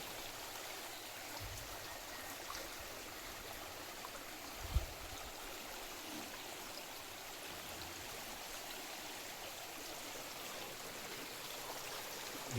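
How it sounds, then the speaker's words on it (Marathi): A stream of water flows steadily, heard as a soft, continuous rushing wash with a few small knocks, faint and even throughout. "सगळं वाहता पाणी."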